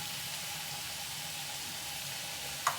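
Chopped chayote (seeme badanekayi) fries in a pan with a soft, steady sizzle at low volume, and a small tap of a utensil comes near the end.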